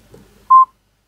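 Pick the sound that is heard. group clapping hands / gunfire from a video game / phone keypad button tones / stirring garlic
phone keypad button tones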